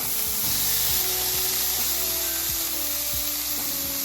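Steady, crackling sizzle of turkey frying in a hot pan, close and continuous, with occasional scraping clicks of stirring.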